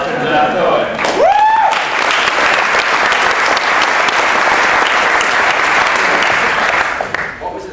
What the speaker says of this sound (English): And let's have a big round of applause for Cohen.